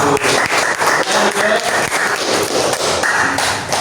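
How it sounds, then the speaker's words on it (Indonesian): A classroom of students claps for a group after a presentation in an Indonesian Islamic education teaching session; dense, steady hand-clapping fills the whole stretch at close range with sharp individual slaps. "Beri tepuk tangan untuk kelompok 1."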